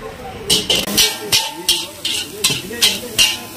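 Chicken frying on a tava at a roadside stall, with rhythmic bursts of loud sizzling and metal scraping as it is stirred and tossed, roughly every few tenths of a second, over a steady background hiss.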